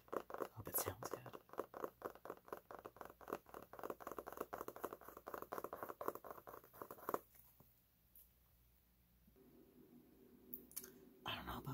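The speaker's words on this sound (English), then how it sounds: "2 minutes of me tapping on this book." Fingertips tap rapidly and rhythmically on a book, close and crisp, for about seven seconds before giving way to quieter, softer rustling.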